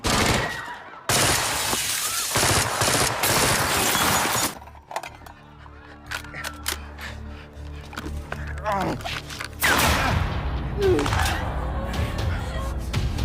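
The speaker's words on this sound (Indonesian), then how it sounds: "Di sini terjadi saling tembak-menembak antara Borne dan polisi" Gunfire between a robber and police in the Indonesian crime film Dara: loud, dense bursts of shots with breaking, shattering impacts, a quieter pause in the middle, then more heavy firing, mixed with voices.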